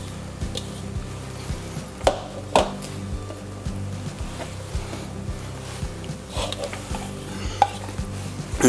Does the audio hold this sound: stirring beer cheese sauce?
yes